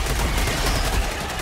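Dense, continuous gunfire from Helldivers 2 fills the whole moment, loud and sustained like overlapping automatic weapons blasting at bugs, with no clear break between shots.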